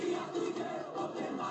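An organized football supporters' group in Brazil, heard as a dense crowd roar of chanting and shouting that stays steady, loud and close for the whole brief moment.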